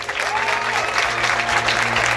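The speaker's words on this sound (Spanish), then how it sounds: "fuerte ese aplauso" An audience at a fifteenth-birthday (quinceañera) entrance gives steady, loud applause, clapping continuously throughout with crowd noise beneath.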